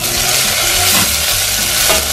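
Garlic and onion sautéing in a hot pan, a steady loud sizzle with scraping stir strokes throughout, close up and without talk.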